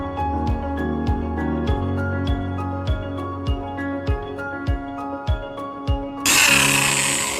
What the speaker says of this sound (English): first we drill a hole at the bottom side of the bucket